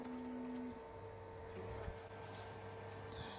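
An Anycubic Kobra Go 3D printer runs auto leveling, its stepper motors whining in steady tones with a few faint clicks and bumps, close and fairly quiet under a constant background hum.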